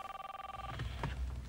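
A 1985 cellular car phone rings with a rapid electronic trill for under a second, then fades into low background rumble and noise.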